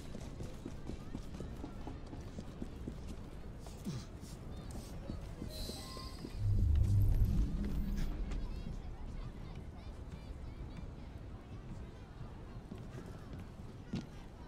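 Horse hooves clip-clop steadily in Assassin's Creed Syndicate, a continuous rhythmic trot at moderate volume, with a brief louder rumble midway and someone talking over it.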